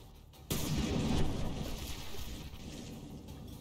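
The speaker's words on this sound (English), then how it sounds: "Richelieu's guns hurt your ears." Battleship Richelieu's main guns fire in From The Depths, a single heavy, sudden blast that is loud and close and leaves a long, rumbling decay of boom and wash behind it.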